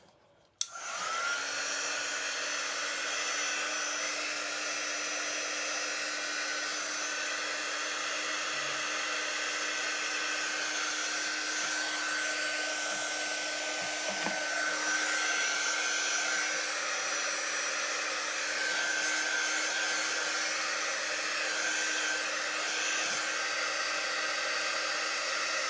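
A hair dryer runs steadily at close range for the whole stretch, a constant loud whir with a faint whine, drying a black item freshly sprayed with water to loosen paste.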